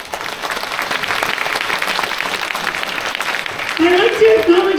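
Audience applause at a school orchestra concert, steady clapping from a crowd that swells slightly near the end while a voice or instrument tone rises faintly underneath.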